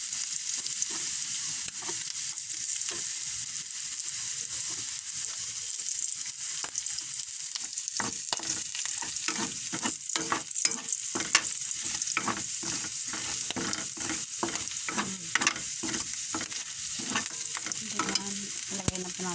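Garlic frying in a pan, with a steady loud sizzle running throughout and, from about halfway, a run of sharp scraping strokes as the garlic is stirred.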